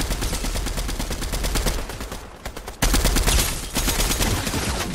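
Sustained automatic weapon fire in the Fortnite video game, a fast steady stream of loud shots with a short pause near the middle before the burst resumes just as hard.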